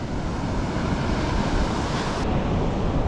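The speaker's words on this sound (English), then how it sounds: "Just had a wave. Not that it really came up in a hurry, but washed all the way up and around here." Ocean surf washing up the sand on a beach during surf fishing, a steady, loud rushing wash of water mixed with wind buffeting the microphone, continuous without pauses.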